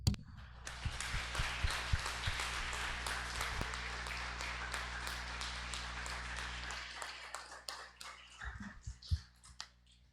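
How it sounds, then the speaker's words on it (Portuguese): A church congregation applauding, a sustained wash of many hands clapping at moderate distance, fairly quiet, with scattered louder claps and a few sharper hits as it tapers off. "Gente, vamos dar um aplauso para essa igreja."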